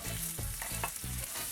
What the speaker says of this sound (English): Now I'm going to add the pepper and the onion.